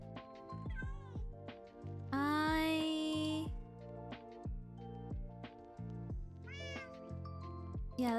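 Minecraft cats meow repeatedly in a game, a run of short, pitched meows with one long drawn-out yowl partway through, close and fairly loud with no talking over them.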